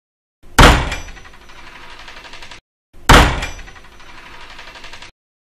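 A door in a cartoon game is pushed open and shut twice, each a sharp thunk followed by a fading rattle, clear and close with nothing else around.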